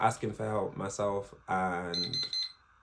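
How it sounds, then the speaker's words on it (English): A phone alarm beeps in short high repeated tones near the end, under and after a person talking steadily. "that's my alarm"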